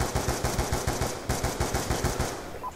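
Automatic gunfire in the video game Call of Duty Black Ops 2: a steady, rapid stream of loud, evenly spaced shots running for nearly three seconds without pause.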